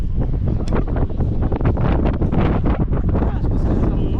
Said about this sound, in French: Il y a grave du vent.